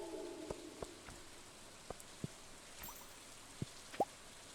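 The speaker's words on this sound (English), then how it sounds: "Oh, it's raining." Scattered raindrops fall, sounding as sparse, distinct drips and plops on a surface, quiet and close, with soft background hiss between them.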